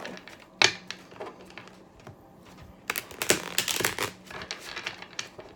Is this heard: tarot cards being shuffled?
yes